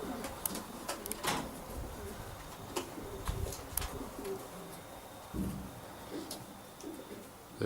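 Racing pigeons coo in a loft, with low repeated rumbling calls overlapping at close range, mixed with scattered clicks, wing flutters and rustling throughout.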